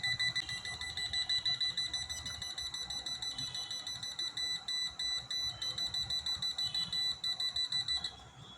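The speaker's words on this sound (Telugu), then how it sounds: "పైనుంచి ఇది బజర్ చూపిస్తూ ఉంటుంది" Buzzer of an AC 220 V electrical tester sounding as a rapid, even train of high beeps for about eight seconds, then stopping. A voice speaks quietly underneath.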